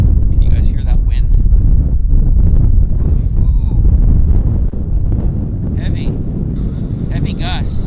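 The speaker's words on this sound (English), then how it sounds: "Can you guys hear that wind?" Heavy wind gusts buffet an outdoor microphone at Vancouver Airport, a loud, continuous low rumble, with a person exclaiming briefly and faint higher tones drifting in and out.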